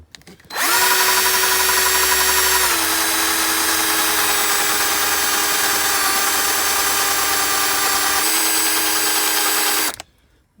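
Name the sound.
drilling out spent primer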